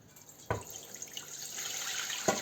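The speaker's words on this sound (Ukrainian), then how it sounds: "Так, печінка відстоялася, і ми тепер її процідимо через друшляк." Soaked liver is poured through a colander, with a sudden splash of water followed by steady draining and trickling, then a second splash near the end, close and fairly quiet, with no talk.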